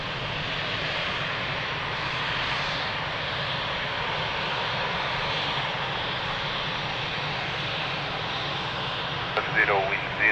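Aircraft landing at Lisbon Airport gives a steady broad engine roar heard from a distance, unchanging across the stretch, with a brief knock and a voice at the very end.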